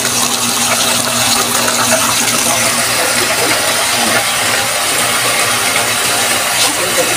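Strong water flow from a pressure booster pump set up with an overhead tank: a steady, loud broadband rush that stays constant throughout, with a faint mechanical hum underneath.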